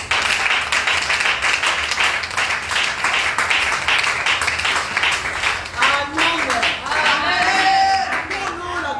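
A congregation at a women's prayer seminar claps and cheers in dense, steady applause, with voices calling out and rising chanted tones toward the end.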